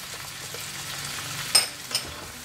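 Chopped tomatoes, ginger and cashews frying in a pan for shahi paneer, a soft steady sizzle with a couple of brief clinks of a utensil against the pan near the end.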